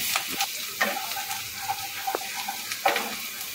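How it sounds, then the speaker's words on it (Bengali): Finely chopped garlic and a little ginger hit hot oil and sizzle steadily, with a few sharp scraping stirs of a spatula against the pan punctuating the crackle, all close by. "এবার ওই তেলের মধ্যেই আমি দিয়ে দেবো কুচানো রসুন"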